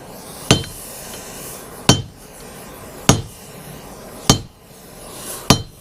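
Heated railway rail steel is struck with a hammer to straighten it: five loud, sharp metallic blows ring out close by, evenly spaced about a second apart, with no talking.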